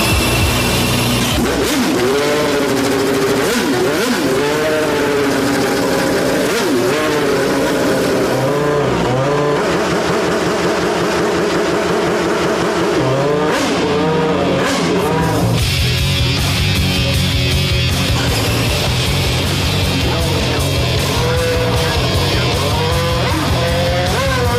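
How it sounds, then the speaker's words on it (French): A loud, high-pitched Formula 1 engine of over 800 horsepower, in a Renault Espace F1, revs repeatedly, its pitch climbing and falling in sweeping bursts, then settles into a harsh, sustained roar. "un moteur de Formule 1."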